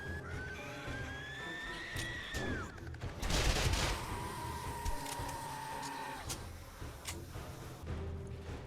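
Gunfire in the 7 Days to Die video game, a quick burst of shots amid whirring mechanical game noise, fairly faint and set against a busy background.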